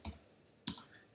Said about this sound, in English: Make sure I'm typing these all in correctly